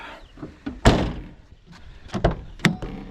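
A door is pushed shut with a loud close thud, followed by a few smaller knocks and rattles as it settles. No one speaks.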